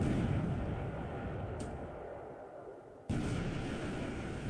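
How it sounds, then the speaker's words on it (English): Naval gunfire aimed at a cruiser in the War in the Pacific strategy game: a steady rumbling roar of distant guns, with a sharp fresh burst of fire about three seconds in, and no talk. "Now concentrate fire on the last Allied cruiser."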